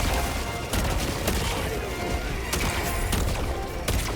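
Gunfire and a turret blaze away in Helldivers 2: a dense, steady stream of shots with sharp, louder bursts at irregular intervals, sustained and fairly close throughout.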